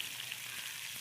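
Mustard seeds and small shallots frying in hot coconut oil, a steady close bright sizzle with faint crackle throughout, no talk.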